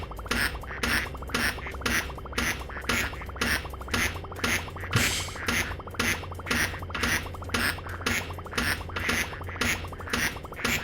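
Repeated cartoonish duck quacks in the video game Project P.I.T.T., coming in a steady, rapid rhythm of bursts over a continuous game backdrop, loud and close with no talk.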